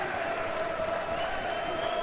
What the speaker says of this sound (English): the roar of applause comes from the home faithful